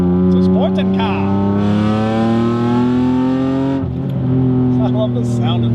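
A 1991 Ford Taurus SHO engine revs hard while driving, its loud, close tone climbing steadily, then dropping briefly at a shift before rising again.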